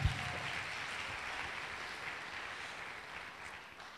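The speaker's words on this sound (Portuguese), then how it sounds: "mais uma salva de palmas a Jesus pela vida" A church congregation claps in praise during a worship service, producing a soft, distant, continuous patter of many hands that fades gradually toward the end, with no talking.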